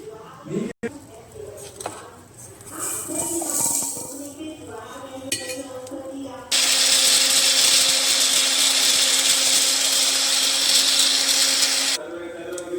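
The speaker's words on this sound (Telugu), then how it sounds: "గ్రైండ్ అయిపోయింది, పక్కకు పెట్టుకున్నాము." A mixer grinder blends a cooled, fried spice mixture for a village-style fish curry, starting abruptly and roaring loud and steady for several seconds before stopping, after earlier kitchen clinks and clatter.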